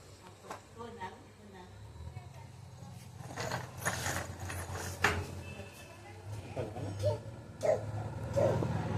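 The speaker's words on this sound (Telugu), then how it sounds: "అక్కడ ఒక డాగ్ ఉంది కదా" A dog barks a few short, fairly distant times outdoors during a family outing, mixed in with ongoing conversation and a voice.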